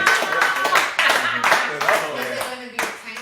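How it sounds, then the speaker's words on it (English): Scattered hand claps, a few sharp distinct strikes in loose rhythm, heard close under ongoing conversation and laughter between hosts. "Man, clap it up,"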